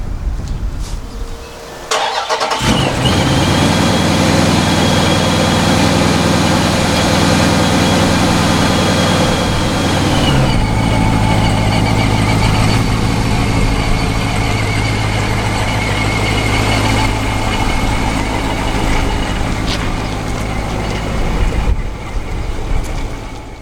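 A powerful Dodge Scat Pack muscle car engine starts with a loud crank and roar, then settles into a deep, rumbling idle that runs steadily and close by.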